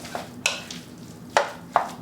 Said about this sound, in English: I'm gonna put a little fresh ground pepper inside, and then I'm gonna stir that up